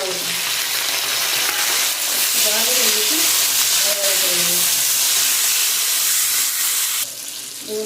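Chopped raw garlic with five-spice seeds sizzles in hot oil in a pan for a coconut and taro-leaf dish, a loud, close, continuous frying hiss with brief faint stirring.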